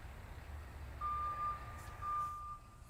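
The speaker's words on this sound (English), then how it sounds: "That's a garbage truck." A garbage truck on a road about 500 feet below in New York, its reversing alarm sounding two long, thin beeps over a low engine rumble, distant and faint beneath steady background noise.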